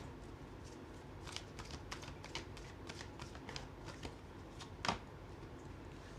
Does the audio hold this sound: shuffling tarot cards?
yes